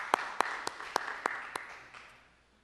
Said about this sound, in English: Let's give them a round of applause and show our appreciation.